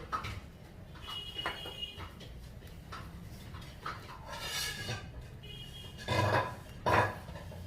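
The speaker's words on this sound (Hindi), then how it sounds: "बीच बीच में आवाज़ इसलिए आ रही है क्योंकि मम्मी बर्तन क्लीन करती हैं" Dishes, pots and cutlery clink intermittently in a background kitchen where bati dough is being kneaded for microwave baking, with a few louder clatters near the end over a low room hum.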